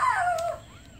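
A newborn puppy, only a couple of days old, lets out a single high, thin whimper that slides downward in pitch and then trails off into quiet.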